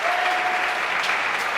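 A boxing crowd applauds after a knockout, steady full-bodied clapping and cheering from many spectators throughout.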